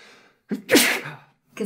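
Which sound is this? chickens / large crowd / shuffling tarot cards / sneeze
sneeze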